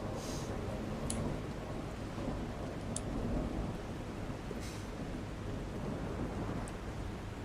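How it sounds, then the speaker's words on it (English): A steady, heavy downpour of rain with a low continuous rumble of thunder in the video game Awakening the Caretaker, with scattered sharp drip and splash ticks over the constant wash and no talking. "This storm is awful."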